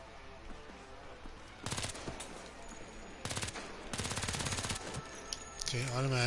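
An automatic gun in a video game fires several sustained bursts of rapid shots, separated by quieter gaps for reloading, with a voice speaking at the end.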